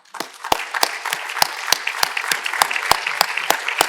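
Sparse applause at an archaeology conference plenary as staff are asked to stand, distinct sharp claps ringing out one by one at a fairly even pace, with softer clapping scattered beneath.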